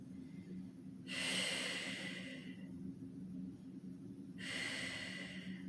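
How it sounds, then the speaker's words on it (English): A person inhales during a Pilates floor stretch, with two slow, soft breaths drawn in close to the microphone. A quiet, steady low hum sits underneath and no one speaks. "Breathe in."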